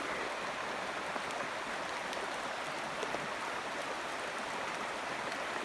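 Water flows through a pond inlet on a rainy day, making a steady, close rushing hiss that holds evenly throughout with no talking.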